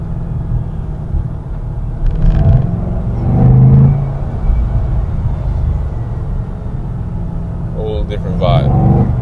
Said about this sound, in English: you give it to the gas, you're gonna hear it